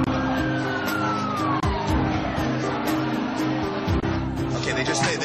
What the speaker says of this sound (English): There's an ambulance here